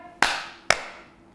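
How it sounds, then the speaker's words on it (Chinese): Two sharp single hand claps spaced about half a second apart, close and crisp, each ringing briefly in a quiet room. "拍手 clap"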